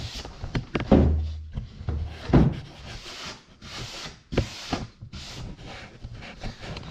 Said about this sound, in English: just go along the edge with a 220 grit